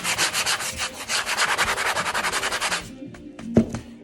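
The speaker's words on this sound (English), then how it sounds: "So I'm going to use my sander." A power sander scrubs glitter off a sign in steady, rapid rhythmic strokes, loud and close, then stops, leaving a few quiet clicks and a knock.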